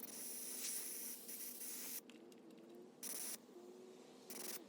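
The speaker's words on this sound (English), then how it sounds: "We're gonna blow it out with some air and see if any crap comes out of it." Compressed air blasting through an ultrasonically cleaned fuel line from a lawn mower that sat unused, heard as several short, close hissing bursts of uneven length separated by brief gaps.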